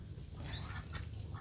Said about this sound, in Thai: เป็นเป็ดสวยงามครับพี่น้องกินไข่ก็ได้นะครับ